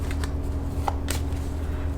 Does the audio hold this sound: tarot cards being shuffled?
yes